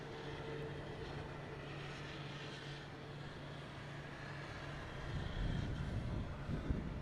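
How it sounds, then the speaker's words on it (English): American Airlines Embraer E175 arriving at Boston Logan, a steady broad jet roar heard from a distance that swells louder in the last couple of seconds as the plane nears. "next coming in, we have American Airlines."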